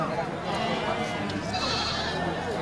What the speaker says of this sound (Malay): itu dia kambingnya juga sangat sehat dan segar